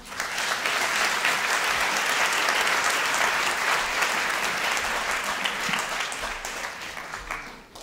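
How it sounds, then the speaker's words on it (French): A church congregation at an evening miracles and healing service applauds the worship team, sustained loud clapping filling the hall for several seconds before tapering off at the end. "merci à l'équipe de louange, vous pouvez les applaudir."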